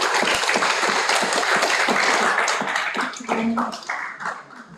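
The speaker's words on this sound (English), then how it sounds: "Big applause for our Professor Rasyikah." An audience at a public university lecture claps for the professor, a loud crisp burst of many hands that thins and tapers into scattered claps near the end.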